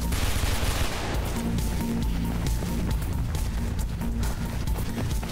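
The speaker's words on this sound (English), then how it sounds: "Judging by the gunfire." Gunfire in the video game Mirror's Edge, a dense continuous rattle of automatic shots and bursts running steadily throughout, loud and close without any talk over it.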